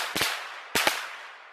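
Firecrackers set off by a mouse trap wired to a 6-volt battery give two quick pairs of sharp, loud cracks about half a second apart, each followed by a decaying ring.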